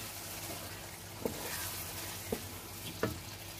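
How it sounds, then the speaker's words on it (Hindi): Potatoes fry in a pan for an aloo and egg bhujia, a soft continuous sizzle with three brief stirring clinks, fairly quiet and without talk. "ये हम इसमें ऐड कर देते हैं। और इसे भी फ्राई करेंगे।"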